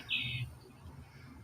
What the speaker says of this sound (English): There's one bird up on top of the feeder.